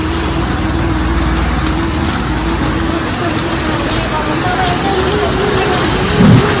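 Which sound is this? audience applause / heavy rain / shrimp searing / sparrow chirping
heavy rain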